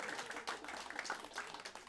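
Audience clapping at Zanies comedy club, a steady patter of hands through the whole stretch, moderately distant with a faint murmur beneath.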